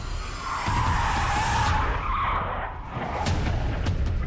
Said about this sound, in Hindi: तेज आवाज के साथ स्कॉर्पियो डिवाइडर से टकराई और पलट गई।